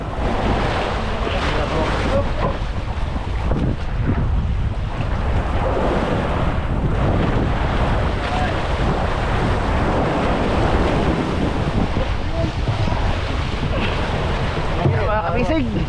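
Ocean waves wash steadily around a fishing boat out at sea at night, with heavy wind buffeting the microphone and a continuous broadband roar that stays loud and unbroken throughout.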